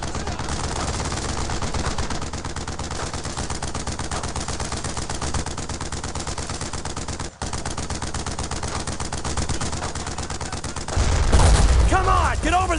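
Sustained rapid gunfire fills a World War II combat scene in the video game Brothers in Arms: Road to Hill 30, dense bursts of rifle and machine-gun fire continuing throughout with a heavier blast near the end.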